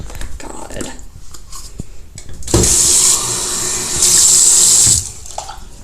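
Kitchen tap gushing water into a sink during a small fire emergency, a loud steady rush that starts abruptly mid-clip, swells, and stops, preceded by clattering and handling noises.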